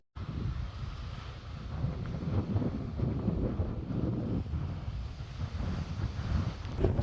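Strong wind buffets the microphone in a steady, rumbling roar, gusting throughout with no voices.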